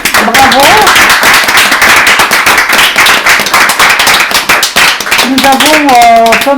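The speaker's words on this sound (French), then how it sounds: "Je vous applaudis. On va s'applaudir de même." Loud, crisp clapping from an audience at the 2020 women architects' award ceremony goes on for several seconds, sharp hand claps densely packed, with a voice speaking over it at the start and end.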